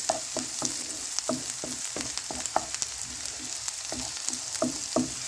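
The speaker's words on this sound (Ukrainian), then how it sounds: "Цибульку смажу до того, поки з'явиться характерний аромат, про те, що вона готова." Onion frying in a pan sizzles steadily throughout, with a broad hiss punctuated by repeated stirring clicks and scrapes at an irregular rhythm, close and moderately loud, no voices.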